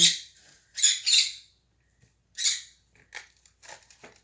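Several bursts of harsh squawking from pet birds nearby indoors, in irregular clusters with short pauses, followed by softer chirps and calls.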